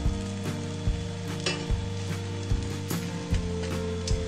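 Pancake flipped in a hot pan frying on, steady sizzle with a run of sharp knocks and scrapes roughly every half second, fairly close and with no talk.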